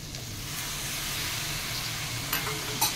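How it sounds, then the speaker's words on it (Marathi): Paneer sautéing with spices in a pan sizzles loudly and steadily up close, broken by a couple of sharp spatula clinks and scrapes near the end, with no speech. "आणि इथे 1-2 मिनटं आपल्याला परतून घ्यायचं आहे।"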